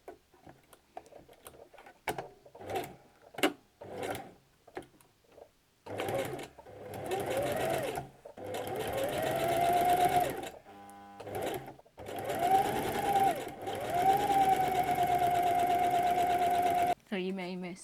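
A sewing machine zigzags along a fabric edge for a cushion cover in several bursts, its rapid mechanical stitching loud and close, with a person speaking in the pauses between runs.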